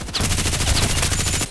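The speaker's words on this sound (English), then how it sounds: "I'm sniping from here, shooting from here" Rapid gunfire in the online shooter Contract Wars, a quick rhythmic string of about a dozen close, loud shots fired in steady succession.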